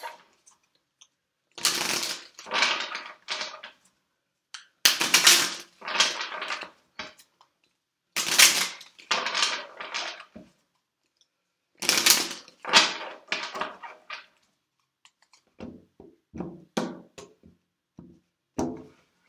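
Tarot cards being shuffled by hand in repeated bursts of riffling and sliding, each lasting a second or two with short pauses between, close and clear with no talking.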